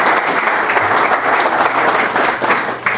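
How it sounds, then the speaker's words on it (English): Loud, continuous applause from a Rotary club audience, a thick, even roar of many hands clapping close by with no talk over it. "So let's give him a round of applause today."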